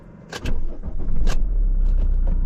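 A van engine with glow plugs cranks and catches, settling into a steady, close idle rumble, with a few sharp clicks and knocks on top and no talking.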